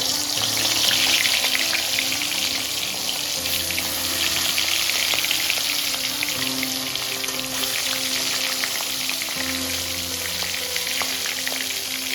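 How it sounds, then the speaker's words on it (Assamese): Fish sizzles and crackles steadily in hot oil in a pan, a loud continuous frying hiss with small pops throughout, no voices. "এতিয়া মই মাছ দি দিম, তেলখিনি গৰম হৈ গৈছে"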